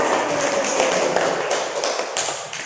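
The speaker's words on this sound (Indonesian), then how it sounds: "Beri aplaus untuk kelompok 1." Audience applause after a group presentation in a classroom, a dense, steady patter of clapping held at a close, loud level throughout before easing slightly at the end.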